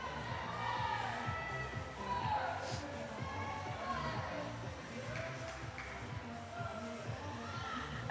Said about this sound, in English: Big old round of applause from the crowd.